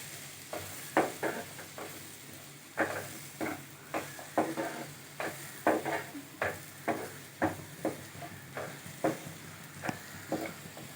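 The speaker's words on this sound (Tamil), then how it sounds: "ஒரு 4 பல் பூண்டு அதையும் இதிலே போட்டு" Ginger, garlic and green chillies sautéing for egg masala, a soft sizzle broken by regular scraping strokes of a spoon in the pan, fairly quiet and close, with no talk.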